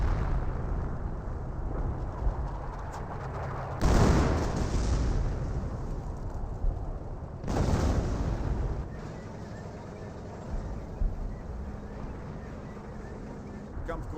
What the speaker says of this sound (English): the artillery barrage is running on in